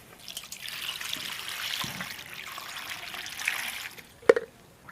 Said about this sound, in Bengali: ঝিঙেগুলো আগে প্রথমে ধুয়ে নেব।